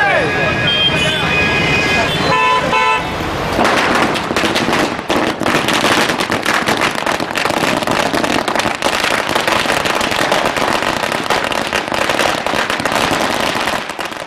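Firecrackers go off in a celebration of a BJP election victory at Guru Nanak Chowk in Deesa, a dense, continuous string of loud crackling bursts with street noise mixed in.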